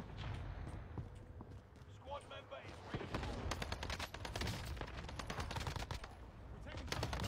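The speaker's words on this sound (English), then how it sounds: "Damn, I'm getting sniped again" Gunfire in the online shooter Call of Duty: Warzone, rapid bursts and sharp cracks crowding the second half over a rumbling game background, with a player's voice talking at times.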